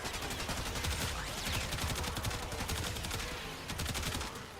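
Rapid gunfire from the Incarnon Prisma Gorgon in the Warframe video game, a dense, loud stream of shots and impacts that continues for nearly five seconds.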